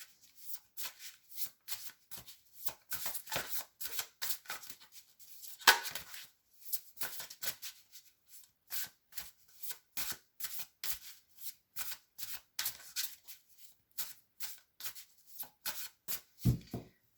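A deck of cards is shuffled and riffled again and again up close, quiet, crisp bursts of flicking and tapping in an uneven rhythm with no talk.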